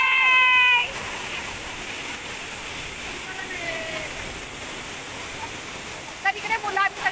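A rain-swollen waterfall near Pali gives a continuous broad roar of falling water, with brief voices at the start and near the end.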